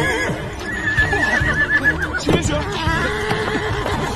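A frightened horse neighs and whinnies in panic, loud and close, with repeated shrill calls over a busy dramatic soundtrack and a few hoof clops.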